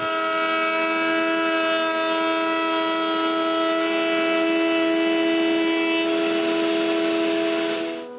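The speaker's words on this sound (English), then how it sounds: "Now I can cut the grooves for the raised panels." A power tool cutting grooves in wooden rails for raised cabinet panels gives a loud, steady, high whine that holds throughout and eases off at the very end, with no voices.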